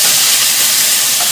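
Washed white rice going into a hot pan for a vegan mushroom risotto, giving a loud, steady sizzle and hiss that holds evenly for about a second and a half with no voices.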